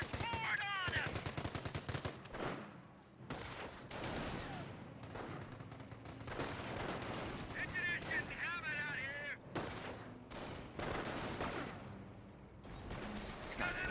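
Bursts of 30 cal machine gun fire and other battle gunfire in a Company of Heroes match, with repeated rattling volleys and scattered shots at moderate volume under game noise.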